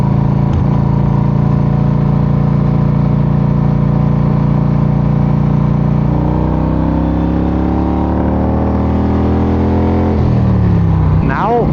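1986 Harley-Davidson FLTC Tour Glide motorcycle engine running after a fuel petcock repair, a loud, steady low rumble that shifts pitch midway and rises near the end, close up with no gaps.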